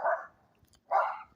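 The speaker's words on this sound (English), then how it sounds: "which means they're probably going to have dogs in here." Two separate dog barks ring out from behind the walls of hilltop houses, each a short broad burst with a quiet gap between them. They sound moderately distant and muffled, and no one speaks over them.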